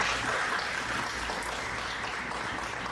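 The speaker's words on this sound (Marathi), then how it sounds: "फक्त हे मुली टाळ्या वाजवतात. जोरात वाजवा टाळ्या." Women in a lecture audience clap steadily and fairly loudly throughout, a dense, continuous patter of applause with no talk over it.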